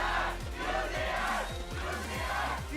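An esports crowd at the League of Legends All-Star 2017 grand final cheering for the champion, a dense, roaring mass of voices sustained steadily over a few seconds.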